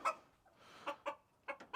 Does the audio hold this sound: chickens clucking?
yes